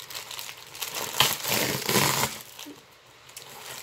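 An Amazon package is torn open, its wrapping crinkling and crumpling up close in a loud burst that fades to quieter rustling.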